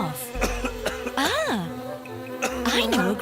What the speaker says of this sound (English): you've got a cough